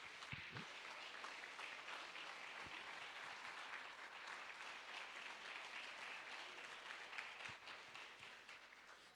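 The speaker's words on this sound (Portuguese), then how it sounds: "Quer aplaudir? Pode aplaudir." Church congregation applauding during a worship service, a faint, steady patter of many hands clapping at a distance, continuous with a few soft thumps.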